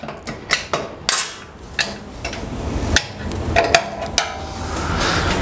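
An offset wrench clicks and clanks against metal while tightening fence bolts on a Ridgid R4512 table saw during an Incra fence install, giving irregular sharp taps and ratcheting knocks close by.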